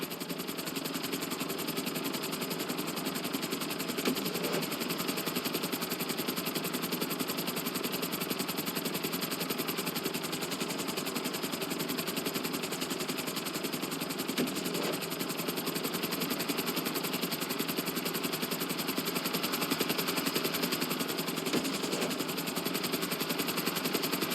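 A helicopter in GTA V gives a continuous, steady rotor and engine drone that stays even throughout without a break.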